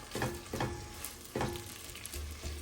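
Chopped garlic and mixed peppers sauté in a pan for gluten-free rice and peas, a quiet steady sizzle broken by a few soft stirring scrapes, close and alone.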